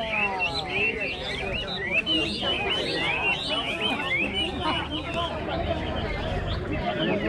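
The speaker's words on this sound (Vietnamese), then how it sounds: "mỗi một con chim này hót một kiểu các bạn ạ" Caged songbirds at the Bac Ha bird market in Lao Cai chirp and trill in a busy overlapping chorus, steady and fairly near, over a murmur of people talking and market background.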